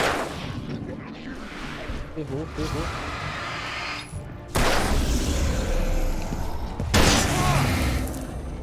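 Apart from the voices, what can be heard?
gunfire from a gun in the video game Alan Wake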